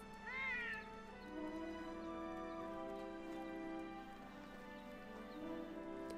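A cat meows in the video game Monster Hunter World: one clear, rising and falling meow near the start, followed by quieter, softer mewing over a low, steady background.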